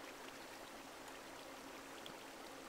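Water flowing steadily in Minecraft, a soft, even hiss with no breaks, faint and unbroken, with no voices.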